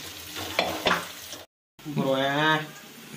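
Onions sizzle in a pan over a medium flame while soya chaap is being prepared. A steady frying hiss runs under a voice, broken by a brief silent gap.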